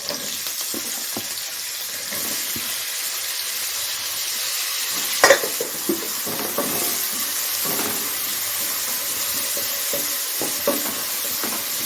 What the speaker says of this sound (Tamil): இதெல்லாம் சேர்ந்து ஒரு நிமிஷம் வதக்கினா போதும்